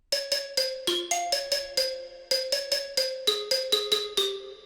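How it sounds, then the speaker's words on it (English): Marimba lead from the Purity synth plugin playing a quick, bouncy moombahton melody, about twenty bright, short mallet-like notes that strike and decay in a steady rhythm, clean and alone with no talk. "And then the second lead that I use in the drop is this one from Purity. It's the marimba,"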